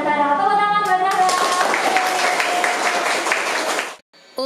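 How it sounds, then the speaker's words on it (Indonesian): Schoolchildren in a sixth-grade classroom at SD Muhammadiyah 1 Surakarta break into sustained clapping, a dense near patter with voices mixed in, that runs for about three seconds before cutting off abruptly. "Tepuk tangan banyak-banyak"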